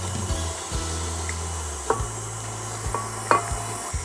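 Sugar is mixed into chocolate oatmeal cookie batter, producing a low, rhythmic scraping and churning with occasional soft knocks of the utensil against the bowl, close and steady.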